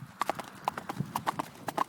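Horse hooves clip-clop on a farm in an uneven walking rhythm, several close sharp knocks over a quiet background.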